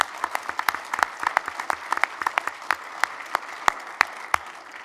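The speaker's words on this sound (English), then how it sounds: "If you wouldn't mind giving them a round of applause as well." Audience applause in a hall for honoured staff, a dense steady clapping with sharp individual claps standing out, moderately loud and close, no talking over it.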